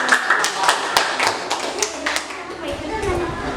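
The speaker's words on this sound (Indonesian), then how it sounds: "Tepuk tangan lagi sekali" Children in an Indonesian primary classroom clap their hands together in a short burst of uneven claps and taps, close by, with a teacher's voice and kids' chatter mixed in.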